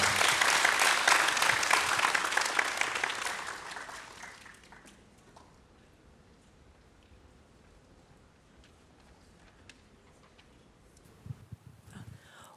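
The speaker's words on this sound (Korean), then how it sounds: "큰 박수로 환영해 주시기 바랍니다" A church congregation at a worship service applauds to welcome youth forum presenters, with a burst of lively clapping that tapers off within a few seconds into a quiet room.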